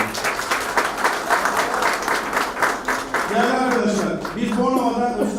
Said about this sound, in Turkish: Ona kocaman bir alkış istiyorum.